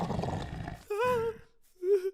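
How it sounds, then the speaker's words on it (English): A cartoon wolf growls and roars in two throaty bursts, loud and close, the second shorter and rising, over a rumbling background. "The wolf appeared growling."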